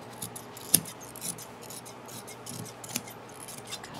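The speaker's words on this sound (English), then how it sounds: "Now I'm going to cut this bodice off" Scissors snip through the fabric of a vintage dress to remove the bodice, with a few sharp close crunching cuts and soft rustling of cloth between them.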